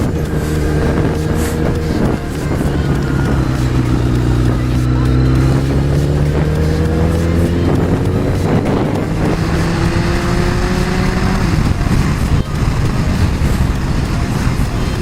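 A motorcycle engine roars nearby, its pitch rising and falling as the rider shifts through gears, with wind buffeting the microphone.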